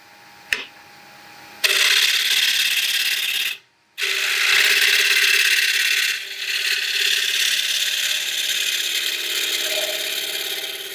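A wood lathe running at 1000 RPM while turning a twice-turned bowl gives a loud, steady whirring roar with rough cutting noise. It briefly cuts out near the middle, then resumes and continues without speech.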